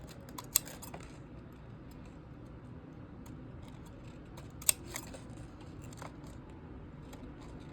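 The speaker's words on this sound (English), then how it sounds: "Right now I'm just adding cuts so it's easier to fold the sides" Scissors cut into paper for a paper Squishmallow with a few quiet, scattered snips, two of them sharper and more distinct, over a soft background hiss.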